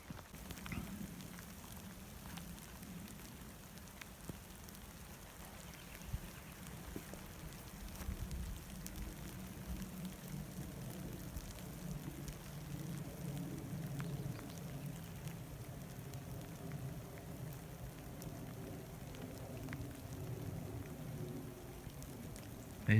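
Steady rain falling outdoors on a garden where rabbits graze, a soft continuous patter with faint scattered drops over a low rumble, unchanging throughout.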